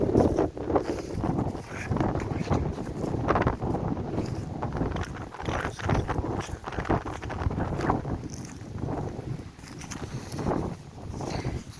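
Strong wind at Lake Burtnieks, Latvia, buffets the microphone in uneven gusts, a rough roaring rumble that rises and falls throughout with no clear pauses.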